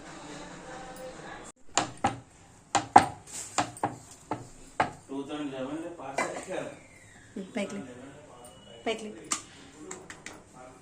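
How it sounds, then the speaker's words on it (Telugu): Dishes being scrubbed and washed at a kitchen counter, with sharp clinks and clatters of pots and utensils spread through the clip, mixed with a voice talking at intervals. "ఇలా మనము గిన్నెలు ఎప్పటికప్పుడు తోమేసుకుంటే నీట్గా ఉంటుంది కిచెన్ ప్లాట్ఫామ్"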